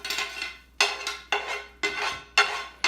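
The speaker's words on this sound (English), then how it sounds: "now she's adding what she sauteed, the garlic, the onion, the green and red peppers into her meat" Cooked garlic, onion, and green and red peppers are tipped from a pan into ground meat for stuffed cabbage rolls, giving a series of about five sharp clattering scrapes of a utensil against cookware, evenly spaced and fairly close, with no talk.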